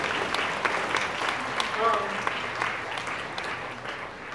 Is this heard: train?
no